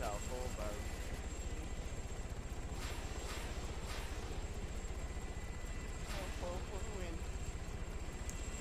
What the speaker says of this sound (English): There's some jet.